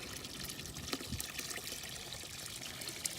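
Hot tap water pours steadily into a Doggie Dooley dog waste digester, a faint continuous splashing trickle with small irregular surges.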